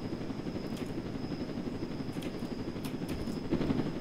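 A helicopter in the Roblox Jailbreak video game, its rotor whir a steady, moderately faint drone with a few short clicks layered over it.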